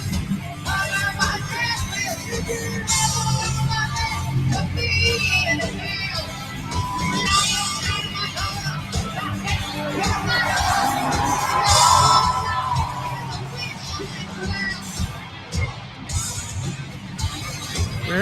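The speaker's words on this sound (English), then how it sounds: "He's already started to let the crowd sing" A concert crowd at a rock show sings along loudly and continuously, a dense wash of voices with scattered cheers and whoops throughout, close and sustained.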